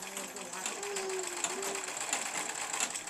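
Sewing machines stitching school shirts, tunics and pants in a women's self-help group workshop, a fast continuous mechanical whir with rhythmic clatter, while a voice talks over it.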